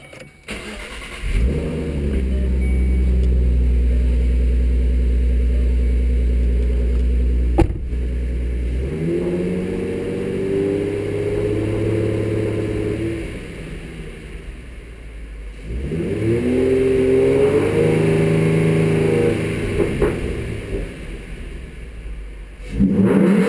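A Ford Mustang V6 fitted with an Airaid MXP cold air intake starts up and revs in three loud rising-and-falling bursts, with idling between them, heard up close without talk.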